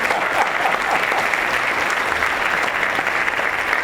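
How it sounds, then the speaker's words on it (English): A seated audience breaks into sustained, even applause, a dense wash of many hands clapping at steady loudness throughout, with no talking over it. "Give him a round of applause."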